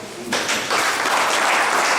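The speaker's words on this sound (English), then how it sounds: "please clap for him." Applause from an audience at a Labour Party local government meeting in Ondo State, Nigeria, bursting in suddenly and continuing as dense, loud clapping to the end.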